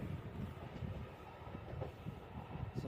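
Rolling rumble of a train at Coventry station on the West Coast Main Line, steady and fairly close with faint rail clatter and no talk over it.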